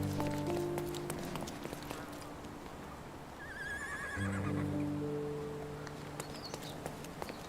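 A horse neighs in the Sherlock Holmes game: a shrill, wavering whinny rises and falls in the middle, set against sustained tonal background music with scattered light clicks and taps.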